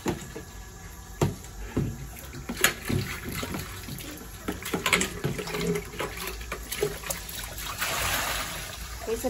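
Tap water runs and trickles while an electric airpot is rinsed, with a faint steady flow, scattered splashes and light clunks of the container being handled.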